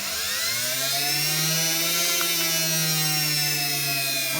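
Two hotwired Dyson CR01 motors spinning at high speed together, a loud, steady high-pitched whine with layered tones that rise slightly and hold, close and continuous with no speech.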